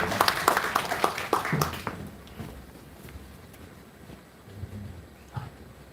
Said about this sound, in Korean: 수상 생께큰 박수 부탁드리니다